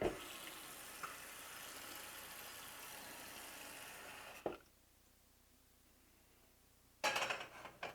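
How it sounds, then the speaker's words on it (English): Tap water running steadily into a pot in a home kitchen while cooking tiramisu and meal prep, a broad close hiss that stops abruptly, leaving quiet room tone before a short clatter. "A little bit of water."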